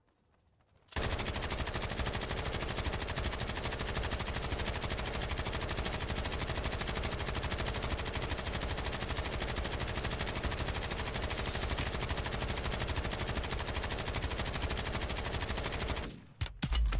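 Sustained automatic gunfire in a video game rattles nonstop for about fifteen seconds, a loud, dense stream of rapid shots that cuts off abruptly near the end.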